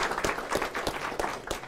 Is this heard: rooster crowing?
no